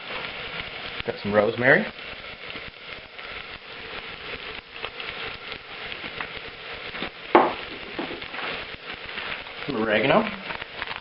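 Onions fry in a pan with dried herbs being added, a steady sizzle with occasional louder stirring scrapes, while a person talks over it.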